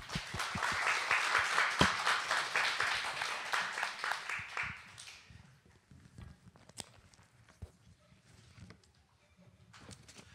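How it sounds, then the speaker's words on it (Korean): Church congregation at a Friday worship service claps to welcome a missionary, a dense loud round of applause that fades after about five seconds into scattered footsteps and quiet room noise. "우리 격려의 박수로 우리 선교사님을 맞이하겠습니다"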